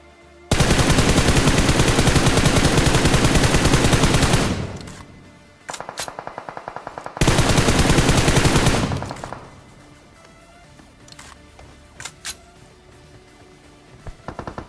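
Automatic gunfire in the mobile battle royale game BGMI: two long, loud, sustained bursts of rapid shots, followed by a few scattered single reports fading into quieter game ambience, with no voices.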